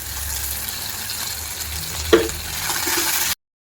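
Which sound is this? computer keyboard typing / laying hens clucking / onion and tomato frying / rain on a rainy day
onion and tomato frying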